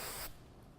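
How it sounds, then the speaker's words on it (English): Hairspray hisses in one close, loud burst onto a section of hair while styling an Indian bridal updo, then cuts off abruptly, leaving a quiet room. "I'm just going to take a little bit of hair and I'm going to spray it so that it can be a little crunchy"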